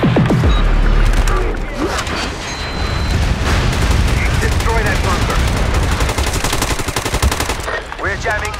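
Incoming artillery fire and gunfire in a battlefield video game, with dense, continuous loud bursts and booms layered over a roaring mix throughout, and some voices mixed in underneath.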